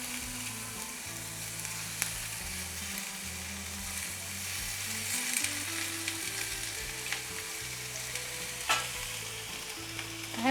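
Onion fries in oil in a pan with a dense, steady sizzle, close and constant, with occasional stirring clicks and no voices over it.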